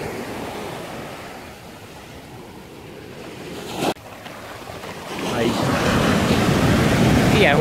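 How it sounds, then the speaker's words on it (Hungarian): Ocean waves wash onto a beach in Goa: a steady roar of surf that swells louder in the second half, with wind buffeting the microphone. "Ilyen hullámok kellenének"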